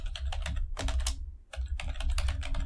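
Quick bursts of keystrokes on a computer keyboard as a password is typed, with clicks in two dense runs split by a short pause near the middle.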